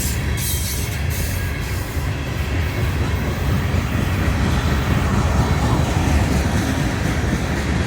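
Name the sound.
CSX heritage unit train passing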